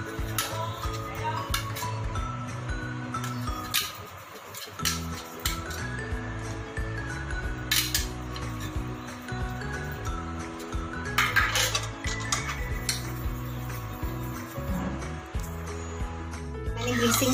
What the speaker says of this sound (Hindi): अब मैंने अपने सांचा ले लिया है इडली का, उसमें मैं थोड़ा सा ऑयल से उसे ऐसे ग्रीस कर दूंगी।